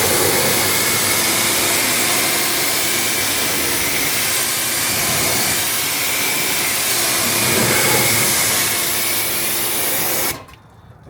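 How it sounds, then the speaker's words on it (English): A pressure water spray rinses the fabric-lined fender wells of a car, a loud continuous hissing rush that cuts off abruptly near the end. "So while that's running down, I'm going to rinse the fender wells"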